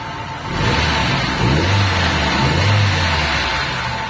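A Nissan Tsuru/Sentra B13 16-valve engine idles, then is revved in two rising swells that climb and fall back, loud and close with a steady mechanical hum throughout.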